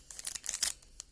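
A card booster pack is snipped open with scissors, giving a short run of crisp cutting and crinkling foil sounds, close and fairly quiet, with no talking.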